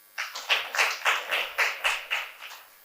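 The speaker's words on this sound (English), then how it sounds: "We can clap for him." Audience clapping at a research chairs and rated researchers recognition ceremony, a short, steady run of sharp claps in an even rhythm, fairly close and clear, with no talk.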